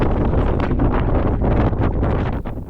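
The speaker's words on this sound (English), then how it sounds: "It's gonna be very windy. You're barely gonna hear my voice," Strong wind buffets the microphone at the summit of Mount Washington, a loud rumbling roar that gusts and flutters throughout, with no voice heard above it.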